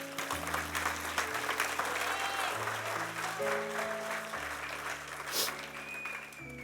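Church congregation applauding the Lord, a steady, dense wash of many hands clapping under sustained organ or keyboard chords, moderately faint and continuous throughout.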